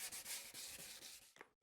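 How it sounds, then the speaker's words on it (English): Rapid back-and-forth scraping of sandpaper on the fuel tank of a BMW K100 motorcycle, close and steady, that stops abruptly at the end. "It's just me sanding this thing."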